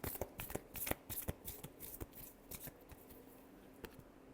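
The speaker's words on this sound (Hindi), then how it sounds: "last shuffle" Tarot cards are shuffled by hand at close range, producing quick crisp riffling clicks and slaps in irregular bursts, loudest near the start and thinning out toward the end, with no voice.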